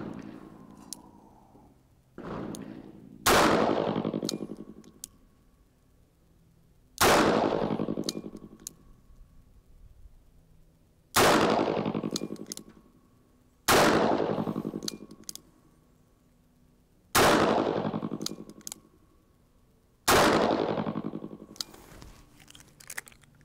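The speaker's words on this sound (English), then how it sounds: "now we have the 6-inch Model 68 stainless steel revolver, and we'll see what kind of velocities we get" Seven sharp shots from a 6-inch Smith & Wesson Model 68 stainless steel revolver, spaced a few seconds apart, each a loud crack with a ringing decay, with no talk in between.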